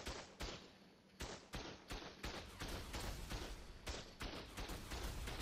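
Automated gun turret in Arken Immortals firing a steady run of sharp, evenly spaced shots, some a little louder than others, with no talking over them.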